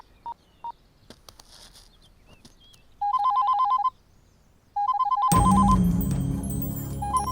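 A telephone rings in short electronic bursts, two quick tones, then longer warbling rings, followed by a loud burst of music and noise; no one speaks.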